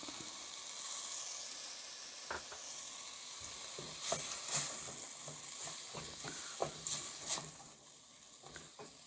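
Vegetables for rava kichidi sauté quietly in a pan with salt and turmeric, giving a soft low sizzle with occasional light stirring clicks and scrapes.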